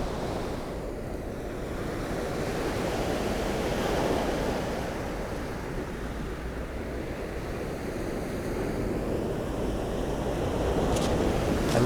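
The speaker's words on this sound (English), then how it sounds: "it's edging up closer to me." Sea waves roll onto the shore in a continuous washing roar with wind buffeting the microphone, steady and fairly loud, no voices.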